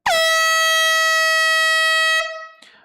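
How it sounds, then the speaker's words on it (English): One loud, sustained blast of an air horn holds steady for about two seconds, then cuts off abruptly. "Here comes the air horn for this one."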